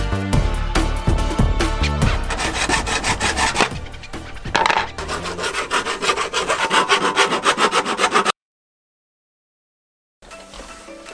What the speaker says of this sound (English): Okay, so tube cut, nice smooth ends with our file.